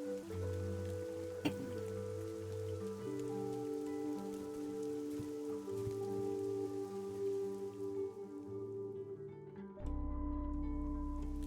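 Rain falls steadily in the video game Fall of Porcupine, a constant patter under layered, sustained musical tones that change partway through.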